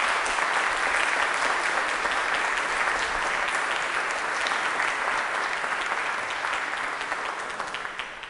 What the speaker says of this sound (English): And let's applaud him as well,